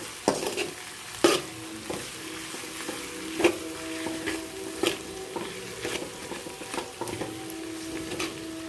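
Ginger being stirred into egg and onion frying in a pan, a steady sizzle broken by repeated scraping strokes and light clinks of the spoon against the pan, close and alone.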